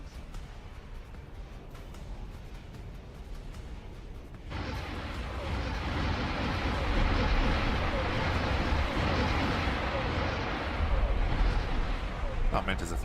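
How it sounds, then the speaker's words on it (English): An explosion in the Star Wars Interworlds space game breaks in suddenly partway through, then swells into a loud, sustained, deep rumble over the steady game background. "Explosion imminent."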